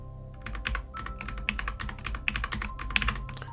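A computer keyboard clatters with quick, uneven keystrokes while a dungeon map is drawn in the Gridmonger mapping program, the taps close, fairly quiet and steady with occasional sharper clicks.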